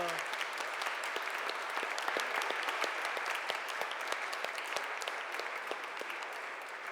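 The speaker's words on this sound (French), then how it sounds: "Une bonne main d'applaudissements pour" A Pentecost Sunday church congregation breaks into steady, dense applause for Gabriela, the clapping even and sustained throughout with no pauses.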